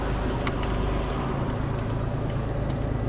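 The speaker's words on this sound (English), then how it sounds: "And we're moving off in first gear." A car pulls away in first gear on snow through a housing estate, its engine giving a steady, close, continuous low drone with faint ticking over the top and no talk.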